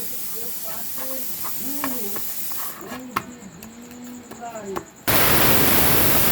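A pressure cooker full of chana dal lets off its whistle, a sudden loud, steady rush of hissing steam that bursts in near the end after a stretch of nearby talking.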